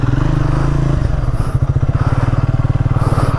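A motorcycle engine thrums close and steady while riding, its rapid regular pulsing loud throughout with some rattle.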